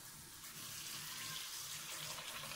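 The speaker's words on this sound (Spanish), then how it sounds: "Ahora lo cubrimos con agua" Tap water runs steadily into a bowl of textured soy, a continuous close splashing hiss for the whole stretch with no talk.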